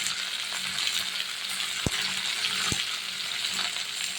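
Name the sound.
stirring shrimp and Malabar spinach in pan with salt and turmeric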